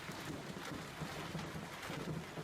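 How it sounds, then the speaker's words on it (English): Large hail falling during a severe tornado-warned storm in May, a dense, steady clatter of stones pelting surfaces, continuous and fairly even throughout with a low rumbling roar underneath. "video we want to show you now of the hail as it was coming down"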